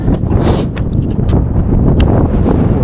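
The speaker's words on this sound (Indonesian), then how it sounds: "Anginnya mantap." Strong wind on an exposed mountain ridge beside steep drops buffets the microphone in a constant loud roar and rumble, with no letup across the whole stretch.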